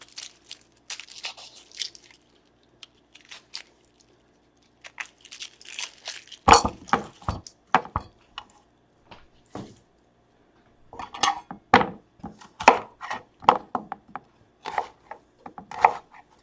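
Red onion diced with a knife on a cutting board, sharp crisp chopping knocks in quick irregular bursts with brief pauses and some soft crunching between them, close and fairly loud.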